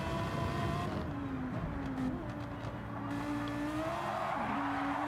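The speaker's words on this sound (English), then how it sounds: "let's take a look at Don P here in his Lambo. In his Lamborghini Motorsports Huracan." Lamborghini Huracan race car from Lamborghini Motorsports in a sim racing game at Yas Marina, its engine droning loud and steady throughout with tonal rising and falling revs and a faint squeal of tires.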